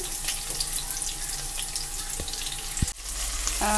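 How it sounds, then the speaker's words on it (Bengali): Onion and whole garam masala sizzle in hot oil in a frying pan, a steady close hiss of frying with a brief clatter near the end. "পেঁয়াজ দিচ্ছি কিছু"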